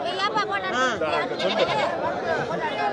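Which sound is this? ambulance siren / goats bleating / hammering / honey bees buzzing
goats bleating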